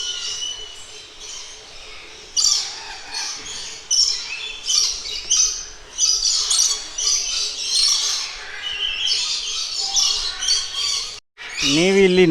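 Parrots in an ashram aviary squawk loudly and repeatedly, harsh close bursts overlapping in an irregular rhythm, with a brief pause near the end before more calls.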